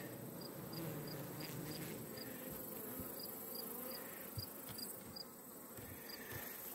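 A dense, continuous buzzing of a honeybee swarm fills the air, steady and close, with a faint repeating chirp and no talking.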